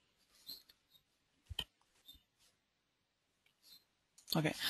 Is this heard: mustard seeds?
no